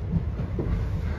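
A passenger train running on the Kashi to Ayodhya line, with a steady low rumble and faint rhythmic rail clatter heard from inside the carriage.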